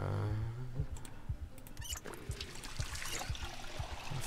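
Water trickles and pours into a bottle in the video game Project Zomboid, a steady gurgling fill with small rhythmic glugs throughout, heard alone without talk.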